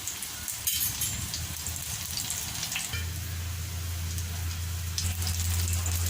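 Fish cutlets sizzle gently in a pan over a low flame, a soft, continuous crackle with a faint click early on and a low steady hum from the stove underneath.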